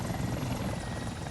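A Mi-24V attack helicopter in the War Thunder video game gives a steady, loud rotor and turbine drone with continuous low thumping and a high whine, and no voices over it.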